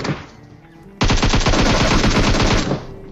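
Assault rifle fire in the mobile battle royale game PUBG, played on an iPad: a loud, rapid automatic burst of closely spaced shots lasting over a second, preceded by quieter in-game ambience.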